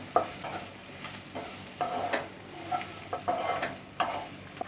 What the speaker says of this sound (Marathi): आता हे सर्व आहे ना थोडंसं परतून घ्यायचं आपल्याला